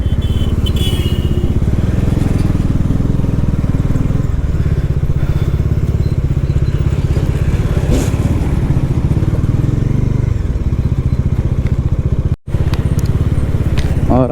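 A motorcycle with a very loose drive chain rides along a road between towns, its engine droning loud and steady throughout with faint clatter and rattling mixed in.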